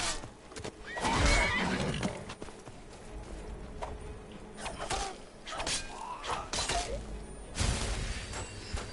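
A horse in a video game neighs and whinnies after being struck, with clip-clop hoof sounds and a crash or shatter of combat effects mixed in, loud and close amid busy game noise.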